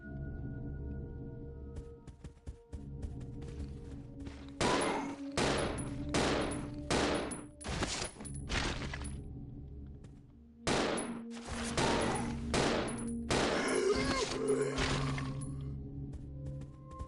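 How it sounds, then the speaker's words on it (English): Pistol gunfire in the survival horror game Resident Evil 0. Two quick bursts of loud, sharp shots fire in rapid succession with short pauses between them, over a low ambient game hum. "I'm just gonna have to hope I can kill a couple of these with the pistol"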